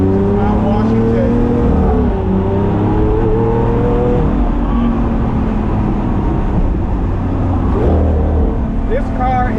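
A Lamborghini Aventador's engine climbs up the Mount Washington road, loud and near, with revs rising and falling through the gears as the car pulls hard, and someone talks over the engine noise.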